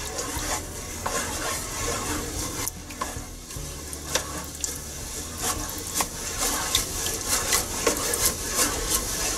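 Rice and corn are stirred in a pan, with repeated scraping strokes of a utensil over a steady frying sizzle, close and fairly loud, strokes coming in an uneven rhythm.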